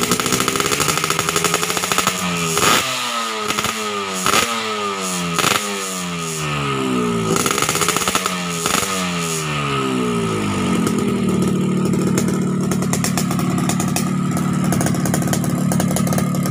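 A Yamaha RX-King motorcycle engine revs hard again and again in rising and falling bursts, loud and close, then settles into a steady high drone.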